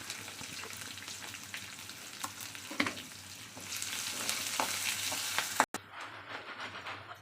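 Onions, garlic and curry leaves sauté in a pan with a continuous close sizzle and occasional scraping stirs, then a brief cut before the frying resumes more quietly.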